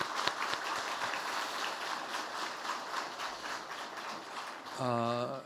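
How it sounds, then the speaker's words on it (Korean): A church congregation at a Sunday worship service claps for its Sunday school teachers. The applause is dense and continuous, a broad wash of many hands that holds steady. A voice cuts in near the end. "박수 한번 하시죠"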